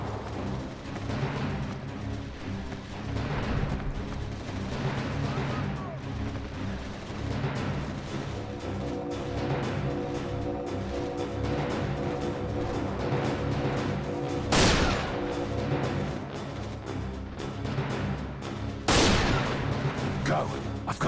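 Gunfire rattles through a battle in the video game Resistance: Retribution, rapid repeated shots over rumbling combat noise with two sharp loud blasts late on, and voices shout under the fire.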